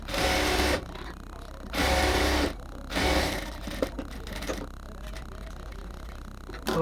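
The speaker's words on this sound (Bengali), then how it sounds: "নেক্সট কাজ হচ্ছে এখানে আমরা আরও একটা সেলাই দিব ডাবল ভাবে উল্টা পাশ থেকে একদম উপরের দিকটা থেকে" A sewing machine stitches a dress made from a saree in three loud, steady bursts of about a second each, separated by pauses. Quieter handling sounds and a voice follow.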